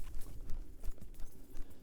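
A horse's hooves clip-clop along an outdoor riding trail in a steady walking rhythm, close by and moderately loud, with no talking.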